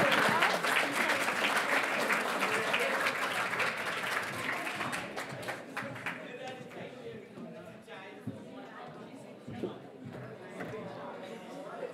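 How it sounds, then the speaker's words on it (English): Audience applause at the Victorian Aboriginal Honour Roll ceremony: steady dense clapping from a crowd that fades and thins after about six seconds into scattered claps. Voices murmur under it. "We have another round of applause,"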